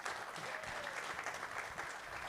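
An audience applauds Coach DeBesse at his final show in Harvest Hall, a dense, steady patter of many clapping hands filling the room, with no talk over it.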